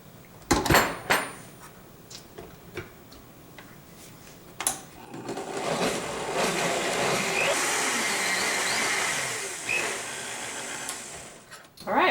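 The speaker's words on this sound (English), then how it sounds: "once it gets blended down quite a bit" A blender whirs steadily as it purees a chickpea salad dressing with added water, starting after a few sharp knocks and clatters of the jar, then running as a sustained broadband whine for several seconds before cutting off.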